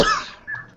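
A single sharp cough from a man, loud and close, fading quickly, with a faint second throat noise just after.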